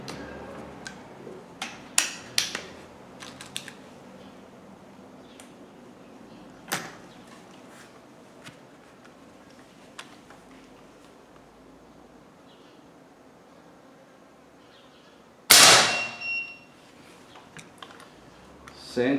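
A single sharp air pistol shot rings out loud and close, a hunting-style pistol fired while measuring velocity, standing out against faint scattered clicks and handling noise.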